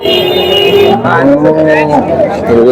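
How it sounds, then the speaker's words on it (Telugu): Punganur cows at a livestock market in Palamaner moo loudly and close by, one long low call followed by several more bellows, with faint crowd chatter behind. "ఇంకా ఉన్నాయి ఆవులు చాలా ఉన్నాయి చూడండి"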